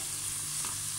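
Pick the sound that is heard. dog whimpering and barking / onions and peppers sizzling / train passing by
onions and peppers sizzling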